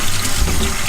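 Swiss chard rinsed under a running kitchen tap, giving a loud, steady rush of water splashing into the sink, close up and continuous with no voices.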